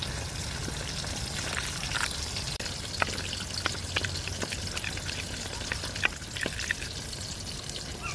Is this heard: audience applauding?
no